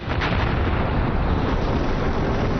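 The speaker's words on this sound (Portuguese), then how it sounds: "o universo sofreu uma grande explosão que arremessou o espaço para fora" A Big Bang explosion effect rumbles as a loud, dense roar with a sharp crack at the start, then holds at a sustained level for its whole length with no voices.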